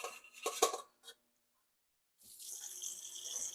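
Water runs from a kitchen tap into a sink while lasagna noodles are drained and rinsed, a close splashing gush with a brief pause of silence, then a softer steady stream of running water.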